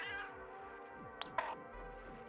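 A cat character meows in the video game Gato Roboto, a short synthetic meow over steady game music, with no talking.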